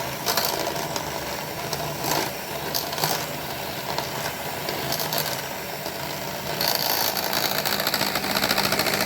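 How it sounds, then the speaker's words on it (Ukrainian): An electric mixer beats plum cake batter made with softened butter and room-temperature ingredients, a steady loud whirring drone with rattling scrapes throughout. "Збиваємо тепер все разом."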